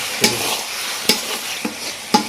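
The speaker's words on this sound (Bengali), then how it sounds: "দেখুন মাংস রান্না হচ্ছে কষানোর কাজ" Chicken sautéing in a pan with coriander leaves, a steady sizzle broken by four sharp spatula scrapes and knocks spaced through the moment, close and fairly loud, with no talking.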